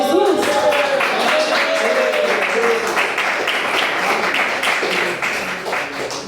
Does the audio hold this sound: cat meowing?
no